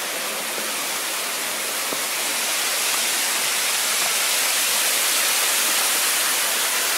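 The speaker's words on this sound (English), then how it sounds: "now it's time to take a closer look at the creek" A mountainside creek flows near a railway trestle in autumn, giving a steady, loud, broadband rush of water that does not let up and has no voices over it.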